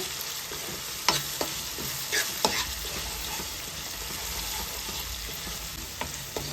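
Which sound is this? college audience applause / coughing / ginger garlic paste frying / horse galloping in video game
ginger garlic paste frying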